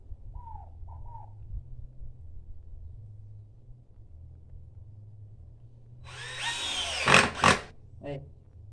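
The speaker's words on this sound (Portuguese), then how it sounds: "vocês parafusam nessa madeira que nós colocamos aqui em cima" A power drill drives screws into wood fixed on top of a tire to make a living-room chair, a couple of short loud whirring bursts near the end after a stretch of low background hum.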